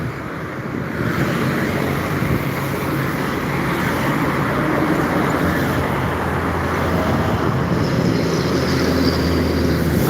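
A Jetbus 5 coach from Java rolls along a road in Palembang, a continuous broad roar of engine and tyre noise with wind-like hiss, steady and fairly close, with no voices.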